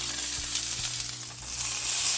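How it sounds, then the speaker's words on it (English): Steak searing in a hot pan gives a steady, loud broadband sizzle, with a few soft low knocks as the meat shifts, and no voices over it. "I'm going to turn this over. I'd like to see what happens, but that's a great sear."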